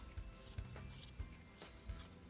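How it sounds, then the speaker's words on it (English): Scissors cutting out a paper pattern, faint, close snips repeating roughly every half second with a soft rustle of paper between them, and no voice. "your pattern, and we're gonna take some scissors."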